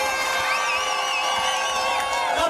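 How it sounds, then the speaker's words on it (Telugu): Crowd at a Settibalija community picnic gathering in Amalapuram cheering and whooping loudly, with shouts and high voices rising over a dense, continuous roar of many people. "మరి మీరందరూ కూడా కరతాళ ధ్వనుల మధ్య మరోసారి చప్పట్లు"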